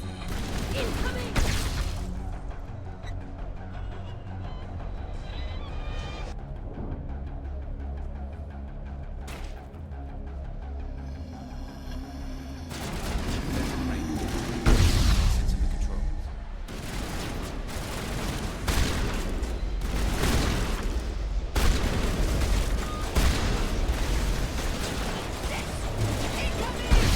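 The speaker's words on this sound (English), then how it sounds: "Alright, we got grenades. Here it comes! Incoming!" Grenade explosions and gunfire from the Mass Effect video game, with bursts and booms breaking out over rumbling ambience and mechanical noise, loud blasts clustering in the second half.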